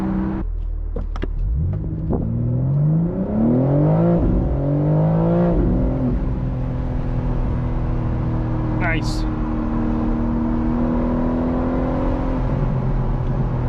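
BMW M4 Competition Convertible, a 2025 facelift, revving hard from inside the cabin with a rising engine note and scattered exhaust pops, loud and close, while someone talks briefly over it.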